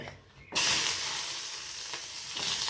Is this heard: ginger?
yes